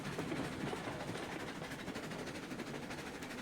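A train rolls steadily along rails in the Railroads Online video game, with a continuous rumble and a faint clickety-clack holding at an even level throughout.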